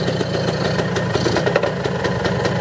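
A 2002 Suzuki Satria motorcycle engine, started after about four months parked, running close and loud with a steady throbbing, slightly knocking rumble, revved a little with no voices over it.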